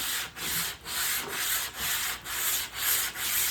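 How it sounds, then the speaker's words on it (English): Sandpaper rubbed by hand in long strokes on a vintage gas pump during restoration, making a rhythmic rasping that repeats about eight times with brief gaps between strokes, close and clear. "it's the same grit sandpaper, but it's just that I guess you use less motion."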